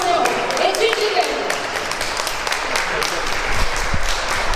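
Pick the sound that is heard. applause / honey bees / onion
applause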